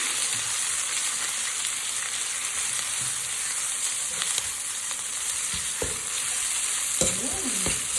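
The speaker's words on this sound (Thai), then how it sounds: "แล้วก็ผัดผัดจนมันหอม" Thai curry paste for nam phrik ong fries in oil, a steady, close hiss of sizzling with intermittent scraping and stirring strokes of a spatula against the pan.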